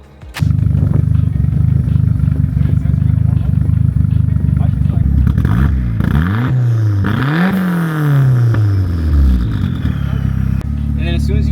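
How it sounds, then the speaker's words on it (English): A turbocharged 370 hp SR20DET engine with a misfire idling roughly, then revved in several rising and falling sweeps that stumble and break up, loud and close. "And then as soon as you start revving it slowly, it would break up a little bit."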